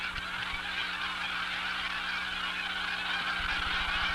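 Migratory geese honk continuously at Catahoula Lake in Louisiana, a broad shallow lake flooded in winter, forming a dense, steady chorus of many birds calling together across the water.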